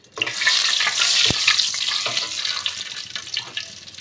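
Bay leaves sizzle in hot oil in a kadai, a steady bright frying hiss with a sharp clink near the middle, close and continuous with no talking.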